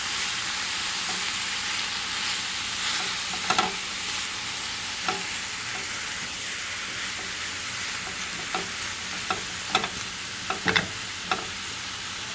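Jackfruit and mushroom fry over medium heat with a continuous sizzle, broken by scattered spatula scrapes and taps that come more often toward the end. The frying is close and steady, with no talking.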